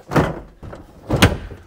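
A van's rear door is handled in two heavy bursts, a thudding opening clunk followed a second later by a sharper latch knock and rattle, close by and with no voices.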